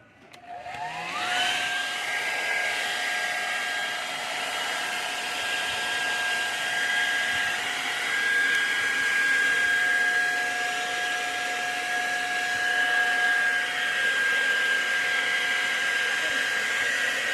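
A blower used as a hair dryer runs continuously on an outdoor air conditioner unit, with a steady high whine and rushing air, starting up and then holding a constant pitch.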